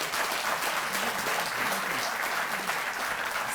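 Audience at a government award ceremony honouring athletes in Delhi, applauding in sustained dense clapping from a crowd, steady and moderately loud throughout.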